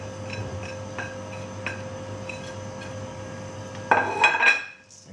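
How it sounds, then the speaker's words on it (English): A spoon works through hazelnuts and baking powder in meringue mixture in a bowl, with soft regular clinks against the bowl at first, then a louder burst of scraping and clattering near the end before it fades. "Stir them all together as well"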